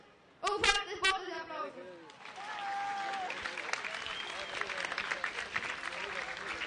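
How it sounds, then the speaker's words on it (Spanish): At the Tinkuy 2013 intercultural gathering for children in Peru, an audience breaks into applause after a short spoken announcement, and an even crowd clapping carries on moderately loud beneath scattered voices and a faint tonal sound. "Un fuerte aplauso"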